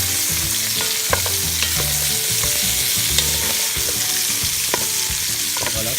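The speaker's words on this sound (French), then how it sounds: "On va essayer de faire rôtir la viande de tous les côtés" Meat for rougail boucané fries in a pan, sizzling continuously while a utensil stirs and scrapes it with repeated clacks. It is close and busy, with no talking.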